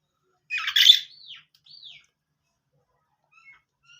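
Australian birds give a harsh squawking call followed by two short rising chirps, then a few faint distant tweets in an otherwise quiet outdoor setting.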